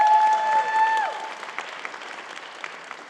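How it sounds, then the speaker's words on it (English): A sharp tonal whine opens, then scattered claps from an audience greeting a speaker at a talk on AI and democracy thin out into a few sparse, fading hand claps. "So give him a round of applause"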